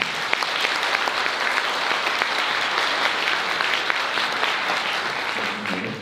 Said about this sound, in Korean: 하객 여러분께서는 축복의 박수 한 번 더 부탁드리겠습니다